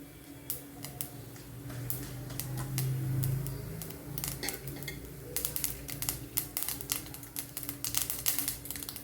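Faint crackling and popping of mustard and cumin seeds spluttering in hot oil, irregular sharp ticks growing denser toward the end, with occasional clinks of a utensil.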